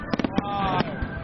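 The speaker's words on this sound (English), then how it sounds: "with the fireworks going off all around me" Fireworks burst all around after midnight during a New Year celebration in Tian Shui, China, with sharp cracks and pops over a whistling, crackling rush and a faint background of voices.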